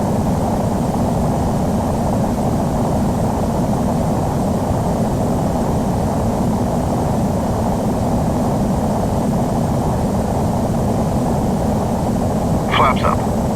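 Jet engines of an airliner climbing after takeoff roar as a loud, steady broadband wash throughout, with a brief faint voice near the end.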